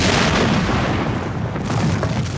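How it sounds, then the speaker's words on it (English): A deep, rumbling roar from an artillery barrage at Gettysburg. It is loud and sustained, with booming explosions blurring into a continuous thunder. "a giant artillery barrage intended to soften up the Union defenses before the attack began with a deafening explosion"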